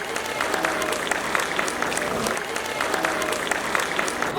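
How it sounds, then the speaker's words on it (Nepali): An audience at a 25th silver jubilee family celebration claps for a cake-cutting inauguration, a dense, steady patter of many hands with faint voices underneath. "ताली बजाइदिनु होला सम्पूर्णले।"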